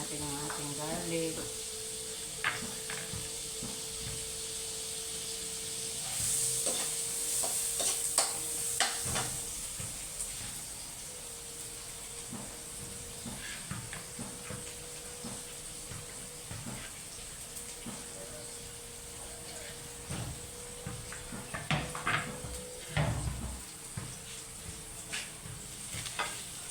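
Garlic sizzling as it fries in a pan, a steady low hiss with scattered stirring clatters and scrapes throughout, moderately quiet and close.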